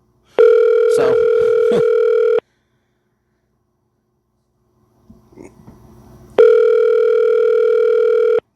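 Telephone ringback tone on an outgoing call: two long steady electronic tones separated by a silent gap, loud and close, with a brief burst of talk during the first tone and some faint sounds during the silent gap.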